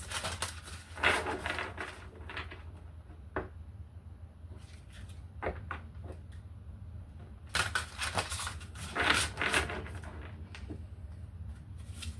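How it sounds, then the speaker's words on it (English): Tarot cards are shuffled by hand in a series of quick papery riffling bursts, some louder than others, repeating at irregular intervals over a faint steady hum, with no voices. "let's get a few shuffles"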